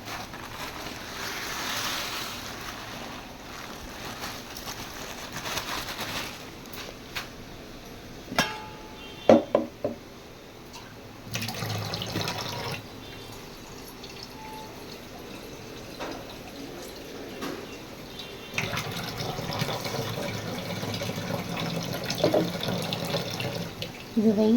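Tap water runs steadily into a sink while a food item is washed by hand, with splashing and occasional knocks, the flow changing in strength partway through.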